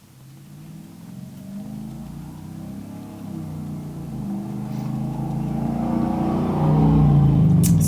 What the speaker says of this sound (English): Sorry if the cars are extra loud.